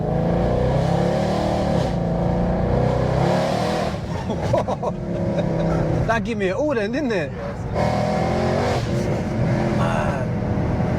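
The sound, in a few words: powerful car engine accelerating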